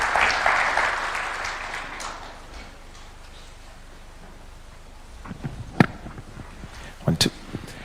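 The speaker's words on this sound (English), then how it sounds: "this deserves another standing ovation and a clap" Applause from an audience at a live formal event on Kenya's framework for reparations to human rights victims swells loudly at first, fades out, and then a few scattered claps and knocks come near the end.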